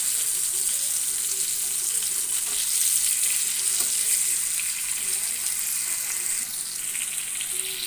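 Fish pieces fry in a pan with a steady, dense sizzle that holds loud and even throughout, close up, with faint background clatter.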